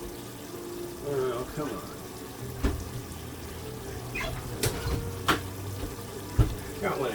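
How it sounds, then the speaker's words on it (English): Water from a kitchen tap runs steadily into a sink while instant noodles are drained, with a few sharp clatters and knocks of the pot, and a person speaks briefly over it. "Gotta drain the noodle."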